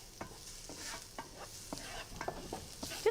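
Garlic sizzles quietly in hot oil in a pan on a home stove, with a steady soft hiss broken by repeated scraping taps of a spoon stirring, close and fairly faint.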